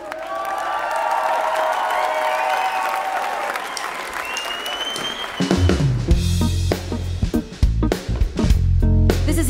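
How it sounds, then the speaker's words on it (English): A crowd at a concert applauds and cheers for the band, heard as dense clapping and whoops under lingering musical tones, followed by music with strong bass beats kicking in. "Give my band a big round of applause."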